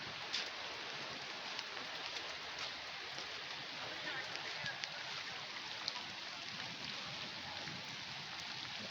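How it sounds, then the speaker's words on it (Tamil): Heavy rain falls steadily in a soft, continuous hiss with scattered drops, faint and fairly distant, with no other sounds over it. "இன்றைக்கி என்னென்னா ஓவராக மழை பெய்யுது"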